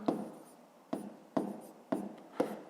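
Pen or chalk strokes writing out a fifth-grade math solution by hand, five short scratchy bursts each followed by a soft tail, close and quiet with no voice.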